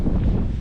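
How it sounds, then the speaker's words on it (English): Wind buffets the microphone on a beach trail in a brief, steady low rumble. "Very windy windy right now."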